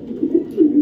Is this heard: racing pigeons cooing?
yes